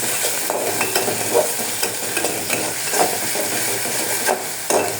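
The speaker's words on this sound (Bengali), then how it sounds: "তারপর দিলাম মরিচ আদা রসুনের পেস্ট" Chili, ginger and garlic paste fries loudly in hot oil, a steady close sizzle and hiss broken by repeated scraping stir strokes, with no voices.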